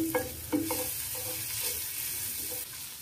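Garlic frying in melted butter on a hot tawa gives a steady, close sizzle with a few stirring scrapes early on, and no talking over it.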